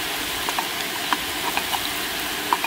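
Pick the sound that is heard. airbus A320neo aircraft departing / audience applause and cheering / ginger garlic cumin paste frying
ginger garlic cumin paste frying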